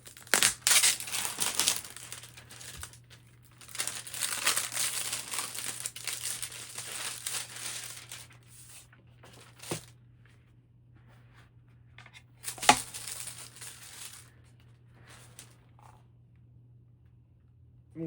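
Plastic packaging around the blades of a 52-inch Boston Harbor ceiling fan crinkles and crushes as it is pulled off, with long rustling bursts, then quieter gaps and a few sharp handling noises over a low steady hum.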